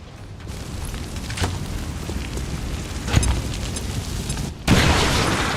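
A frag grenade goes off in the video game XCOM 2 as one sharp, loud blast, trailed by a rumbling, debris-like wash of noise.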